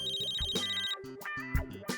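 A phone ringtone plays loud and close, a bright repeating electronic melody of stacked tones with short gaps between the phrases.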